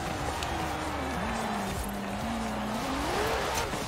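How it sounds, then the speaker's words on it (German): A Ford Transit supervan in Forza Horizon 4 sliding through a handbrake turn: a steady engine roar with a long tire squeal that wavers in pitch, loud and continuous throughout. "Schön Handbremsturn."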